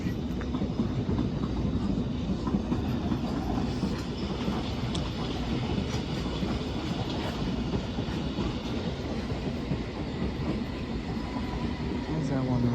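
Train coming into Barking station on the London, Tilbury and Southend line, a steady rumble of wheels and rolling stock with faint rhythmic clatter running throughout, with some speech underneath.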